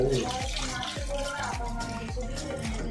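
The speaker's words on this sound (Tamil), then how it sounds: "இப்போ புதினாவை வாஷ் பண்ண போகிறாங்க" Fresh mint leaves being washed by hand in running water for a homemade mutton biryani, with a constant splash and gurgle and rhythmic sloshing swishes about every half second.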